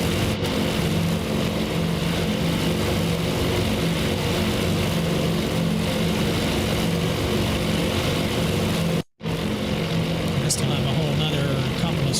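Yorktown's propeller planes in Task Force Admiral drone steadily and loudly, a dense continuous engine roar that barely changes, with one brief dropout near the end.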